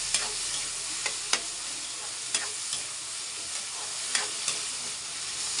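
Tomatoes sautéing in a pan after garlic and onion, a steady close sizzle and fry broken by sharp scraping clicks of stirring at irregular intervals.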